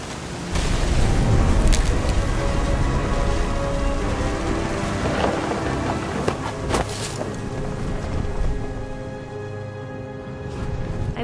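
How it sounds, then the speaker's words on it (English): A thunderstorm in the game What Remains of Edith Finch: a steady wash of heavy rain and wind, with deep rumbling and a few sharp cracks of thunder, dense and close throughout. "The thunder sounded much too close and full of angry power"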